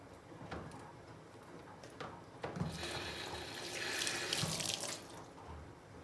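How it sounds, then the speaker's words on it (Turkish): Tap water running into a sink while grapes are washed, a steady splashing flow with clicks and small knocks of fruit and handling, swelling a little toward the middle, no talk. "Şöyle kalanla da yine üzüm temizleyeceğim."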